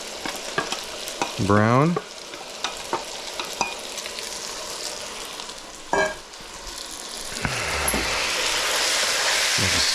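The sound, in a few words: onions and garlic frying with beef, being stirred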